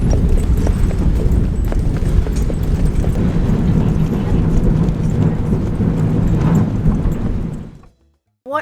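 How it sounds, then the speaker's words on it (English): Horse hooves clip-clop as the horse-drawn tram heads to Granite Island, a loud, dense rumble of hoofbeats and rolling wheels filling the clip before cutting off abruptly near the end. "Yep, the horse and tram."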